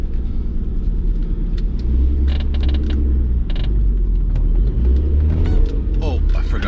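Low car engine rumble close by on a first drive, with creaks and mechanical clunks over it and a person speaking partway through.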